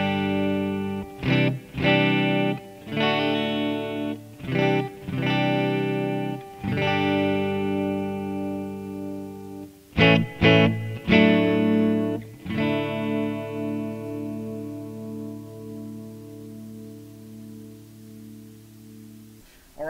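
A Gibson Firebird electric guitar through a Bogner head with light reverb, miked with a Sennheiser 906, plays chords and notes in short bursts, then lets the last chord ring and fade.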